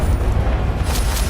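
A Confringo spell explodes in Hogwarts Legacy, a brief, loud, deep boom with a rumbling low-end tail and no voices.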